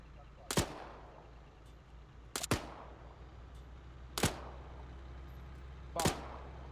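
Four sharp gunshots crack during a military field exercise, spaced roughly two seconds apart, each a loud, abrupt report with a brief decay against quiet outdoor background.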